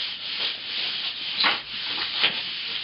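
Skateboard grip tape being rubbed down with its backing paper, giving soft, close scuffing and hissing strokes with a few brighter swipes at irregular intervals.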